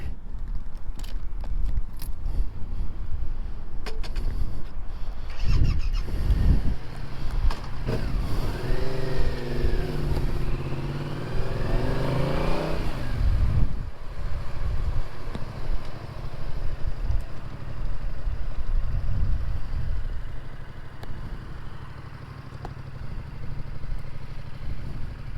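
A Yamaha Tracer 7 motorcycle ridden along, its engine note rising and falling through revs and gear changes with steady wind rush, fairly close and continuous for the whole ride.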